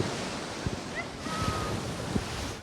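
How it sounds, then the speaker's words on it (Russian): Sea surf rolls onto the shore at Ochamchira, a steady close wash of waves and wind with a few faint whistling tones, fading out at the end. "Волны моря, шум прибоя в Очамчире звучат как песня."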